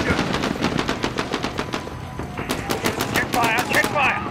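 Rapid automatic gunfire from Call of Duty: Modern Warfare, a shooting scene at Piccadilly Circus, rattles in dense, loud bursts that grow into sharp, evenly spaced shots near the end, with shouted voices underneath.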